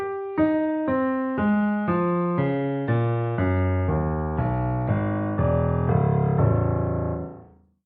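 A chain of descending thirds from the development of Beethoven's Ninth Symphony, played on a sustained instrument as a steady stepwise sequence of overlapping notes falling in pitch, building fuller toward the end before fading out.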